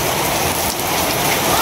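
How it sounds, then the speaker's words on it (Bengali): Heavy rain pouring down, a loud, dense and continuous hiss of drops beating on surfaces nearby, with no break across the short stretch. "প্রচুর পরিমাণে বৃষ্টি আরম্ভ হয়েছে"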